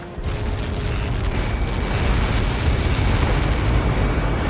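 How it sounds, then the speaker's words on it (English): A massive explosion from the Ace Combat 7 air combat game, a sustained deep rumbling roar that starts suddenly, stays loud and dense throughout, and carries no speech. "How many got caught in that explosion?"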